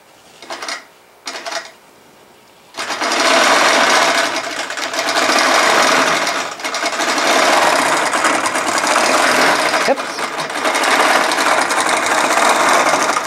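A computerized quilting machine run by an Android Quilt Magician controller stitches a pattern, a loud, steady mechanical rattle of needle and gears running continuously after a few short starts.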